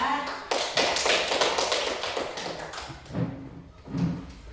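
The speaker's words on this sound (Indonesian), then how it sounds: "Kasih aplaus dulu untuk kelompok 4" Classroom applause for a student group after their presentation, a burst of many hands clapping that builds quickly, holds, then thins out into a few scattered claps.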